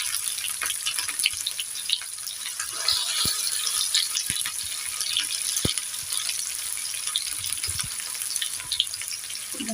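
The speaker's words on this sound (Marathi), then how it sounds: "कांदा गोल्डन फ्राय करायचा आहे त्याला।" Onion frying in hot oil with mustard seeds and cumin for a wet cashew vegetable dish, giving a steady close crackling sizzle with scattered sharp pops of spluttering seeds and no talking.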